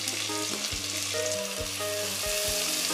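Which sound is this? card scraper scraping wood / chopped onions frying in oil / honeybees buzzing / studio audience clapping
chopped onions frying in oil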